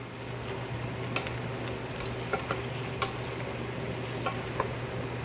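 Chicken curry with ginger, onions and garlic stirred in a pot, a soft continuous sizzle under a low hum with a few light spoon clicks and scrapes at scattered moments.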